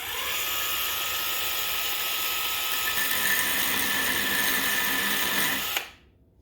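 A Ryobi 1/2 x 18 inch belt sander grinds a burr off metal with a loud, steady high whine close by, holding level for several seconds and then cutting off as the motor stops.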